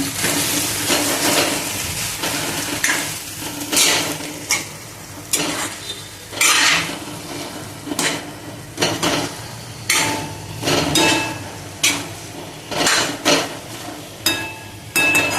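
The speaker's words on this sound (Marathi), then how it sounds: "पुन्हा आपण वांग्याला परतून घेऊया" Eggplant sautéing in a pan for Maharashtrian vangyachi bhaji, with repeated sharp scrapes and clanks of a spoon stirring against metal over a soft background sizzle, in uneven bursts throughout.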